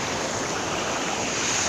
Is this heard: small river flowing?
yes